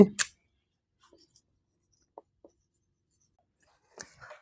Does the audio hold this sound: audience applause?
no